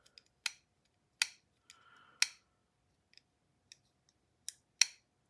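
Sharp, quiet clicks of a folding knife blade, spaced out across the stretch with a couple of close pairs and a brief scraping rustle between, heard alone in a still room.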